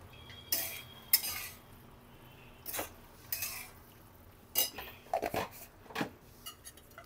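Spoon stirring a green chilli and drumstick dish in a cooking pan, with scattered metallic scrapes and clinks in an irregular rhythm, close and fairly quiet, with no talk.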